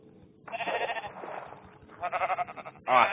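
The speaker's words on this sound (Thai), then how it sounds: "มีแกะอยู่ตรงนี้พอดีนะผม" Minecraft sheep give three separate nasal bleats close up, each a short wavering burst, spaced over a few seconds with quiet game ambience between.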